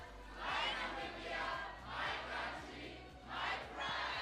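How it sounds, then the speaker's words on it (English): Audience at a national ICT summit chanting a slogan in unison, three rhythmic swells of massed voices rising and falling, fairly distant and faint. "I'd like us to repeat the slogan, my Namibia, my country, my pride."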